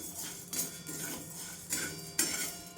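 A spoon scrapes and stirs cumin seeds roasting in a pan for fasting bhajani flour. A few distinct, irregular metallic strokes sound close and fairly quiet, with no talking.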